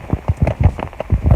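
Rain falling on and around a tent while camping, a steady patter of irregular soft drops landing close by, moderately loud with no voices.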